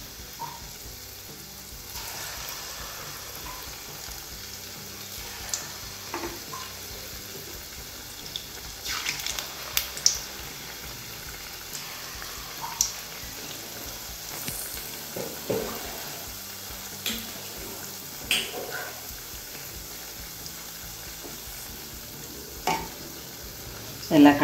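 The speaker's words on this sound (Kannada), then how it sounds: "ಮೀಡಿಯಂ ಫ್ಲೇಮಲ್ಲೇ ಕರಿಯೋಣ." Garige, sweet dough fritters, frying in oil on a medium flame, with a low steady sizzle and occasional stirring scrapes and clinks, close by and with no talk.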